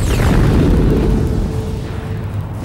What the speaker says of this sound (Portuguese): Isso significa que elas explodem e jogam todo o seu interior de volta para a galáxia.